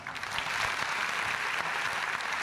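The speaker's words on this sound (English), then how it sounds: "is that clap for me or for His Royal Highness?" An audience at a management institute zonal summit claps, with a brief burst of dense applause filling the hall.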